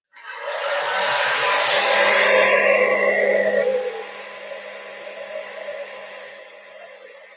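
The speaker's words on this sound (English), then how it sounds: "I'm going to put the hairdryer on, guys," A hair dryer starts and blows steadily at close range, a loud, broad whoosh that eases slightly after a few seconds and then holds, with no talking.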